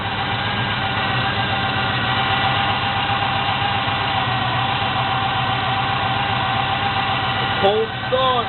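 A small-block Chevy 350 V8 fitted with FiTech throttle-body fuel injection idles steadily after a cold start, a continuous low rumble throughout with a voice briefly breaking in near the end.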